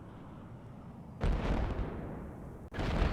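Artillery shells in the military shooter Project Reality slam into tanks, IFVs and APCs, a loud, dense rumbling barrage that erupts suddenly after quiet, briefly cuts out, then resumes with heavy sustained booms.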